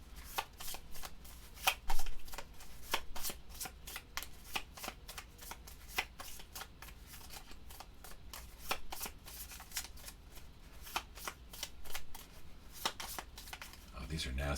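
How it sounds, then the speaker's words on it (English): Board-game cards for Sentinels of the Multiverse, Definitive Edition, being shuffled in a solo session: repeated crisp riffle bursts and snapping flutters spread through the clip, close and clear, with faint talk nearby. "And then we'll shuffle everything."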